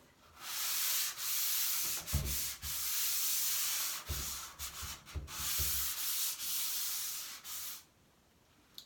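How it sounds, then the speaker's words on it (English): Light scuff sanding of a door before enamel painting: repeated long rasping strokes of sandpaper, each a few seconds, steady and close, followed by quiet. "It's just a super light scuff sanding just to smooth out any roughness"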